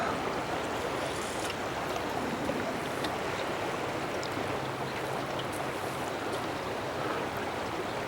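Broad, steady rush of the Cowlitz River flowing past, a continuous even wash of moving water with no breaks, moderately close and alone without voices.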